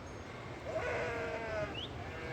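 A flock of sheep with Himalayan shepherds in Uttarakhand bleats in a wavering, quavering call that swells in the middle, with a brief higher cry near the end over a steady outdoor rumble.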